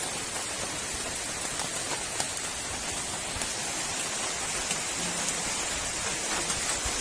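Rain pours steadily onto a corrugated metal roof at night, a dense, even hiss and patter that holds without a break, with no voices.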